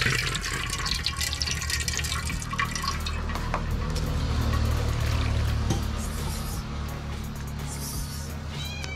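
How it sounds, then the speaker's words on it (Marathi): Plain ration rice is rinsed by hand in water, with steady sloshing, dripping and splashing close up over a low continuous hum. "मुठभर तांदूळ आहेत ते धुवून घ्यायचे, स्वच्छ धुवून घ्यायचे एक दोन वेळा।"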